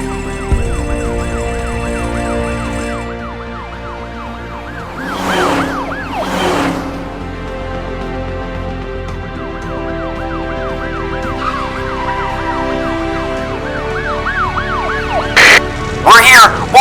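Wailing sirens from cartoon fire trucks rushing to a blaze at a gas station, several overlapping rising-and-falling tones that carry on loud and steady, with a brief horn blast near the end.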